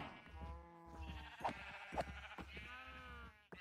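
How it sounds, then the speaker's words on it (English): Minecraft sheep bleat over and over in the video game, the wavering calls overlapping at moderate loudness, with game sounds and faint background noise beneath. "Look at all these sheep."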